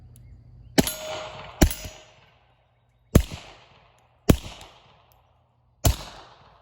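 A Beretta Cheetah pistol with a threaded barrel fires suppressed .32 ACP subsonic rounds: five sharp, metallic reports at irregular intervals outdoors, each with a short ringing decay and no talking.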